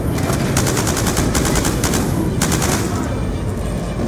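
Rapid automatic gunfire in Call of Duty Black Ops 2, loud and close, with repeated bursts of sharp cracks running almost continuously over a dense noisy background.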